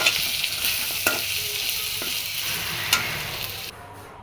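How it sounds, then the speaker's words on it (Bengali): Turmeric, chili, coriander and cumin sizzle loudly in a pan while being stirred, with a continuous close frying hiss broken by a few soft scraping knocks from the spoon, then a sudden drop in the sizzle at the end. "হলুদ মরিচ দিয়ে ধইনা জিরা দিয়েছি। এখন নাড়ার পালা।"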